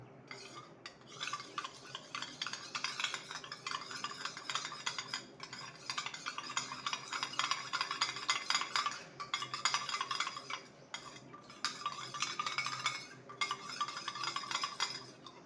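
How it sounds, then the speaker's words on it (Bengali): Two spoons of refined oil and a spoon of water are whisked in a small bowl for chitoi pitha, a steady close clinking and tapping rhythm running in bursts with short pauses. "এখানে দু চামচ রিফাইন অয়েল দিয়ে দেবো আর দিয়ে দেবো এক চামচ জল এটাকে ভালো মতন ফেটিয়ে নেব"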